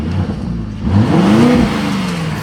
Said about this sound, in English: Wait, rev it. Hit the gas,